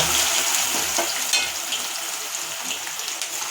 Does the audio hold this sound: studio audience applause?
no